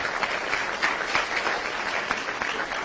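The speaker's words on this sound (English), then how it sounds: "Let's give him another round of applause." Audience applause at a public safety summit, steady and dense clapping from a crowd filling the whole moment, heard from a distance and fairly even in loudness.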